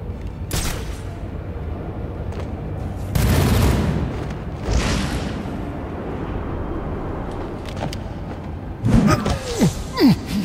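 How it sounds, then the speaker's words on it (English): Gunfire and heavy impacts in the video game Batman Arkham Origins, with sharp shots, booming bursts and thuds scattered across the scene over a low background rumble. "Why is there a gunshot?"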